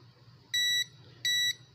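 Two clear electronic beeps from a multimeter in continuity mode, each about a quarter second with a pause between, as phone capacitors on a Redmi Note 10 board are probed after resoldering; steady, fairly close, no talk.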